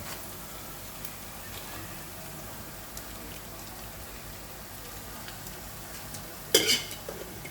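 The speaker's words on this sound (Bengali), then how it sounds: "আর এর আগে গোটা গরম মশলা কিছুটা থেতলে নিয়ে রেখেছি, সেটা কড়াইয়ের মধ্যে ঢেলে দেবো।" Crushed whole garam masala poured into a hot kadai, giving a brief burst of crackling sizzle near the end over a steady background hiss of frying, with no talk.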